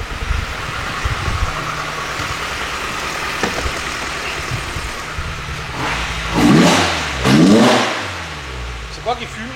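A Mazda MX5 engine revs up twice and quickly drops back, two rising and falling surges standing out over a steady engine drone with some background noise.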